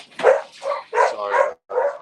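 Pet dogs bark indoors in a quick run of about five loud, close yaps with short gaps between them, heard alone without talk.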